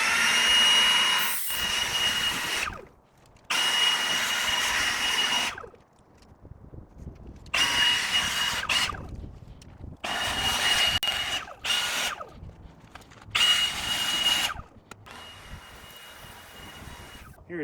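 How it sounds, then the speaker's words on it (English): A leaf blower roars in repeated loud bursts while cleaning a climbing rock outdoors, each blast lasting a few seconds and separated by short drops to quiet. "when I bring out the leaf blower"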